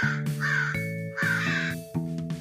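A cartoon crow caws in an animated children's fable, three loud, harsh, drawn-out calls in a slow, even rhythm over a soft musical backing.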